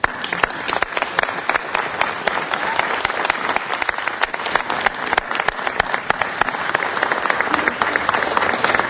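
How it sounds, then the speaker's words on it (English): Audience at a Los Angeles city council meeting giving sustained, dense applause, a steady wash of many hands clapping that holds at even loudness throughout. "Let's give him a round of applause."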